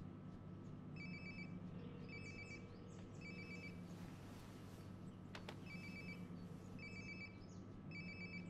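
A phone rings in the video game Life is Strange: Before the Storm, a repeating electronic ringtone in short bursts about once a second, heard faintly against a steady low ambient hum.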